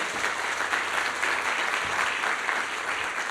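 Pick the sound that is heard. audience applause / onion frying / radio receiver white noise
audience applause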